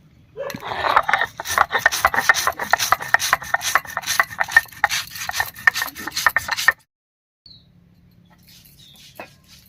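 Whole cumin, coriander seeds and a little ginger ground into a spice paste by hand, a rapid rough rubbing and scraping rhythm, close and loud for several seconds, then near silence with a few faint knocks.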